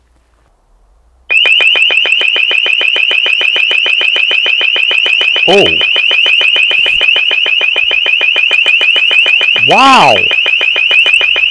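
An LRAD long-range acoustic device blaring at full volume, a piercing continuous tone that starts abruptly and holds steady and very loud, with a man's brief exclamations breaking through it twice.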